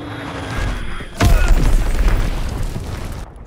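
A bomb explodes in a World War II shooter video game, a sudden deep boom followed by a sustained rumbling roar over steady background game noise.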